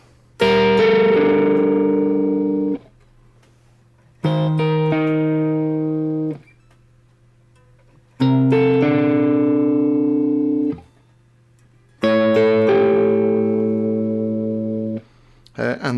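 A clean electric guitar plays four sustained chords from a song, each picked and left to ring for about two to three seconds with short gaps between, plus a steady low hum underneath.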